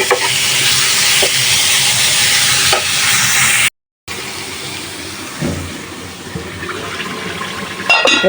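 Onions fry hard in a hot oil tempering for beef tripe curry, a loud close sizzle with stirring scrapes; the sizzle breaks off briefly, then returns slightly softer and steady.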